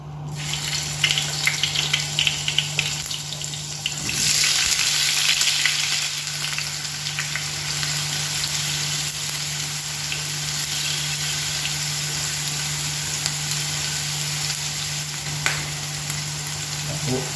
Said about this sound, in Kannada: ಆಯಿಲ್ ಬಿಸಿ ಆಯಿತು ಇವಾಗ ಇದಕ್ಕೆ ಪನ್ನೀರ್ ಕ್ಯೂಬ್ಸನ್ನು ಸೇರಿಸ್ತಿದ್ದೇನೆ